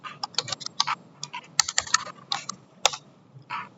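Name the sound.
typing on a computer keyboard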